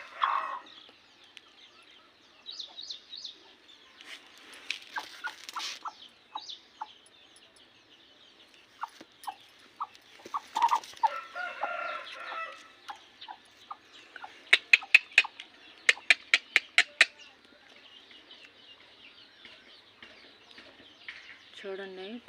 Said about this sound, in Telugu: పాపం ఎంత మంచి కోడనండి ఇది